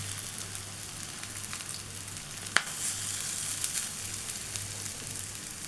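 Lentil fritters (dal bora) fry in a little mustard oil with a steady, soft sizzle and crackle, a faint low hum underneath and one brief sharp tick midway.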